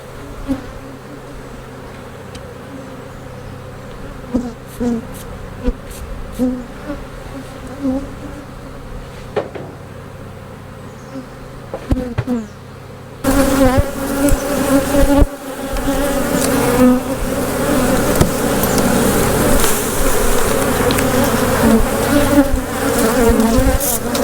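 A swarm of honey bees hums steadily during a honey harvest, a lower background drone for the first half that suddenly swells into a loud, dense, close buzzing that carries on to the end.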